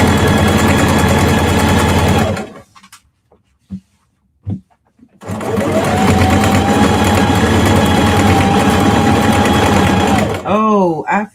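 A sewing machine stitches the sides of a denim tote bag in a loud, close, steady whir, pauses briefly amid faint clicks, then runs again at full speed before a few short bursts.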